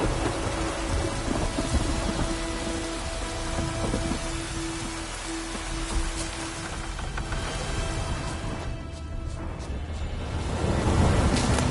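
Steady rain pours down with a low rumble of thunder rolling underneath in the video game The Witcher 3, a continuous stormy wash with a swell of noise near the end.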